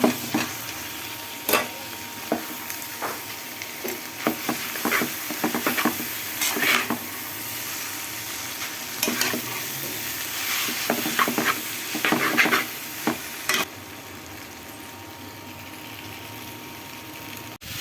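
Noodles tipped into a hot pan and stirred, a continuous sizzle and bubbling with repeated scraping strokes and clinks of the utensil against the pan, close and fairly loud, then ending abruptly.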